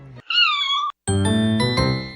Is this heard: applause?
no